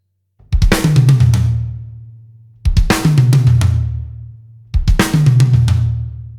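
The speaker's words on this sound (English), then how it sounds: "we are going to be throwing in a triplet 16th fill down the toms" Three loud drum fills, each a rapid triplet sixteenth cascade of tom hits descending in pitch and ringing out, separated by short gaps.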